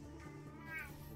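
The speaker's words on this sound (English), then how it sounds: "I gotta let my cat out." A house cat meows once, faint and rising, over a steady background hum, with no talking.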